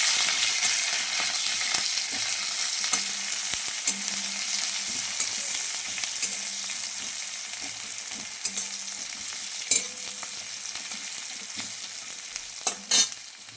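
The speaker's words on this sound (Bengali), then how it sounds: "তেল গরম হয়ে গেছে, এবার একটু পাঁচফোড়ন দিয়ে দেব। পাঁচফোড়ন দেওয়ার পরে কাঁচা লঙ্কা, পেঁয়াজ।" Panch phoron, green chili and onion frying in hot oil, a continuous dense sizzle lasting over thirteen seconds, with occasional faint clicks and a few louder knocks near the end.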